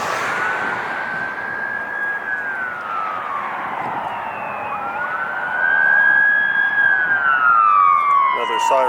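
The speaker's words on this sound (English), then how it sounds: "Another siren." A wailing siren sweeps up and down in pitch at LAX, fairly close and loud, with a second siren tone layering in and growing louder toward the end.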